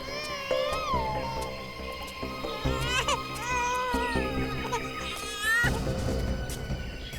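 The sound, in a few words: baby crying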